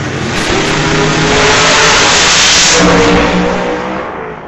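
At an old-time drag strip, a supercharged Acadian and a 1967 Nova rev their engines hard together, a loud, close roar that swells to a peak and then eases off at the end.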